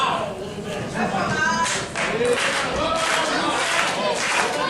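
Pro wrestling event crowd at an ETWA show, a steady wash of cheering and scattered clapping with shouts, fairly loud and continuous, with a commentator's voice running underneath.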